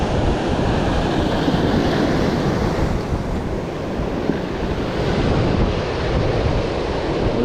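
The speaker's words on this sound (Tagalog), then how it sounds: "sinasabayan ko lang yung malakas na alon" Strong ocean waves surge continuously at a rainy fishing spot, a dense steady roar of surf with wind buffeting the microphone throughout.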